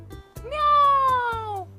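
A human voice imitates a cat's meow: one drawn-out, slightly falling mew with a strong harmonic tone, close and fairly loud, lasting over a second.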